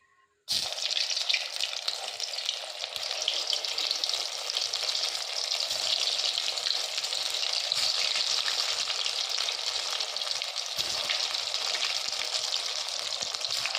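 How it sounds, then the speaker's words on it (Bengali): Bread rolls frying in hot oil give a steady, close, continuous crackling sizzle that starts abruptly and holds at an even level throughout, with no talking. "চলো নেক্সটটা আমরা দিয়ে দিই তেলে।"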